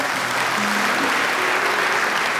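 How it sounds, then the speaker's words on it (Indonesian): Congregation applause during a Christmas sermon for West Papua, a dense steady clapping across the room lasting a couple of seconds, with faint tones sounding beneath it. "Tepuk tangan untuk Tuhan."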